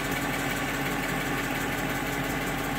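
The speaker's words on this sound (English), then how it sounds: "You can hear the subtle tinging of that stainless exhaust." A 2011 Dodge Challenger R/T with a stainless exhaust idles with a steady low rumble, close and even. No distinct tinging stands out.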